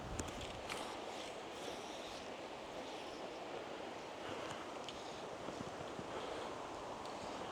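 Wind by the water at a local fishing spot, a steady broadband rush buffeting the microphone with faint wave wash underneath, no other sounds standing out.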